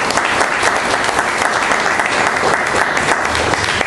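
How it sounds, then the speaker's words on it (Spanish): A church congregation claps loudly in welcome, a dense, steady wash of many hands filling the room without a break. "Démosle ese fuerte aplauso de bienvenida."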